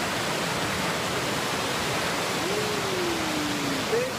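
Outdoor winter waterfall with foaming water below, a steady loud broadband rush of falling and churning water filling the whole scene, close by, with a faint brief tonal sound near the end.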